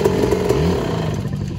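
Two-stroke motorcycle engine revving up close, a steady loud buzzy drone with a rising rev in the middle before settling back, no voices over it.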